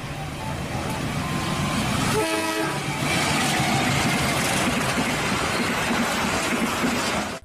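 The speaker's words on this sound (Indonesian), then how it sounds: "Lihat teman-teman, ini kereta api" Continuous loud rumbling toy train noise with a brief horn toot partway through, filling the whole clip like a rolling locomotive.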